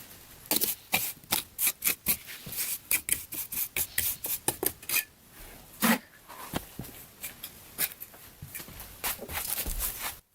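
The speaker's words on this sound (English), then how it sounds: "I am scrubbing the stone floor around the stove to make the room look neat and attractive." Brisk, repeated scraping strokes of scrubbing across a flat stone floor laid around a wood stove in a log cabin, close and fairly quiet, with an uneven rhythm of short rasping bursts.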